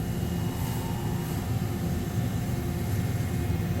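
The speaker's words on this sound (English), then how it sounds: "here goes the B-axis spindle." The B-axis spindle of a 2018 Mazak Integrex i-150 multi-axis CNC lathe whirs with a steady, fairly loud broadband machine drone that holds level throughout, with no talking.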